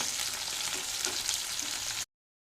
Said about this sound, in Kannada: ಒಂದು ಸೈಡ್ ಫ್ರೈ ಆಯಿತು ಟರ್ನ್ ಮಾಡಿ ಹಾಕ್ತೇನೆ